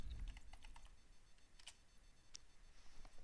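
A command typed on a computer keyboard at a Bash shell, heard as a faint, quick run of key clicks in a quiet room.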